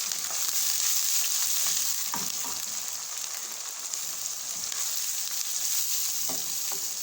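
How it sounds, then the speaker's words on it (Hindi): Ginger-garlic paste fries with tomato and green chili in a home kitchen pan, a dense, continuous, close sizzle with faint occasional stirring taps and no speech. "अदरक लहसुन भी हो गया फ्राई। होने भी टमाटर तो हरी मिर्च डाल देंगे।"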